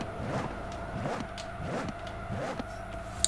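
In Forza Horizon 4, a car accelerates hard through the gears, its engine note repeatedly rising and dropping in quick sweeping shifts at close range, with no speech.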